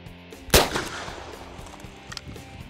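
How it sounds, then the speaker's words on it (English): A single .38 Special round is fired through a chronograph: one loud, sharp gunshot close by with a short decaying tail, followed by quiet room noise. "We're going to shoot it through the chronograph,"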